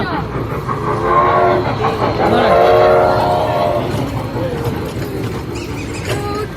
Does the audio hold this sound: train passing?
yes